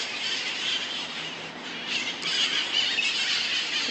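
Parrots squawking and squealing in a park around seven in the morning as the sun comes up, a dense, continuous chorus of shrill calls from birds in the trees overhead, fairly distant but loud.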